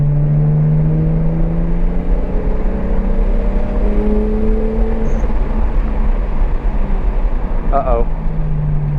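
A big-turbo BMW 335i runs hard around the wet Daytona Speedway, its engine droning steadily with shifting pitch and a loud, constant in-cabin rumble, with brief tire or turbo chirps near the end.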